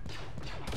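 Strafing gunfire from a run in Arma 3, a dense continuous roar of rapid shots with a sharper burst near the end, close and steady throughout.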